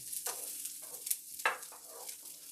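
Shrimp browning in a hot pan for shrimp scampi gives a steady, fairly quiet sizzle with several brief louder crackling bursts, heard alone.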